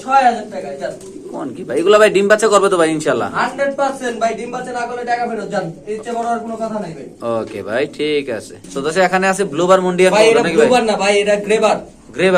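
Pigeons in pairs at a Bangladeshi pigeon market, their soft cooing buried under a man's continuous close, loud talk, with other voices and market bustle around.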